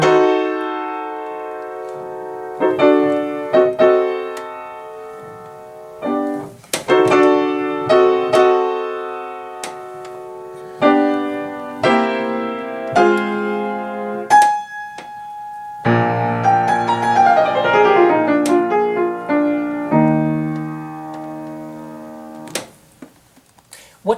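Solo piano plays an exaggerated opening of a Beethoven sonata: emphatic separated chords and runs with pauses between, building into a denser passage that fades out.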